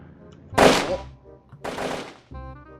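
Gunshots ring out in the video game Hand Simulator, with three loud, sharp bursts of fire close together over a few seconds and a voice talking between them.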